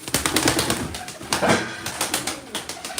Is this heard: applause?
no